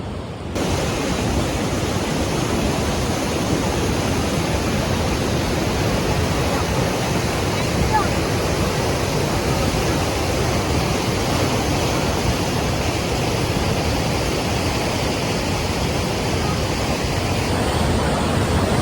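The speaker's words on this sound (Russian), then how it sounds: "вот где главный Ниагарский водопад" Niagara Falls roars in a constant, dense rush of water, loud and unbroken throughout with no voices.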